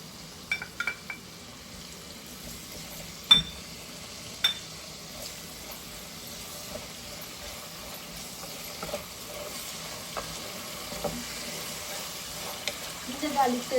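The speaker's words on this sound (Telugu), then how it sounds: "curry leaf green chillies వేగుతున్నాయి" Curry leaves, green chillies and ginger garlic paste frying in a pan for drumstick curry, a soft steady sizzle with a few sharp clinks and stirring taps, a voice talking faintly over it.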